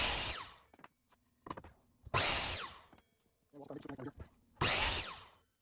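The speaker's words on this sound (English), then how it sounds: "With the chop saw, cut our black walnut pieces to length." A chop saw slices black walnut pieces to length, three loud separate cuts each lasting about a second, with quieter knocks and handling of wood between them.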